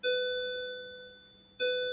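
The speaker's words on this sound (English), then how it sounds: "there's the bell. It's time to go." Two struck tones from a school bell: a loud, clear ring that decays slowly over about one and a half seconds, then a second strike, with no talk.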